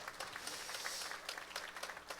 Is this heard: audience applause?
yes